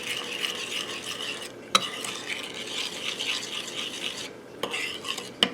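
Minced garlic being stirred into a wet mixture in a bowl, a continuous close scraping and squelching of a utensil with a couple of sharp taps against the rim, no talking.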